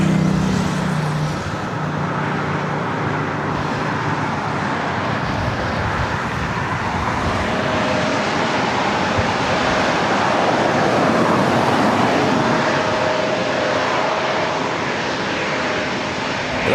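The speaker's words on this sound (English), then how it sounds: "Nice gentle landing there" An airliner landing at LAX, its engine roar a broad, loud, continuous rush that swells and holds through the whole stretch, with background traffic noise mixed in and no talking.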